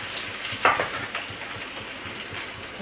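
Ginger and garlic frying in hot oil with mustard seeds, a steady broadband crackle and hiss with a brief louder spit near the start, close and continuous with no voices.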